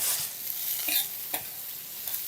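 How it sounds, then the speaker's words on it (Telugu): Green chillies and curry leaves frying in a tempering, a faint steady sizzle broken by a few soft stirring scrapes, close and quiet with no voices. "దాదాపుగా మన పోపు అంతా వేగిపోయింది"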